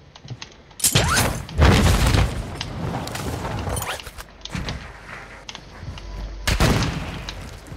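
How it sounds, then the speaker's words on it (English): Gunfire and heavy booms in a Call of Duty match: loud broadband bursts of shots and blasts come in clusters with brief lulls, close and forceful. "Someone's shooting at me!"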